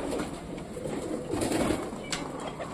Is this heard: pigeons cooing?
yes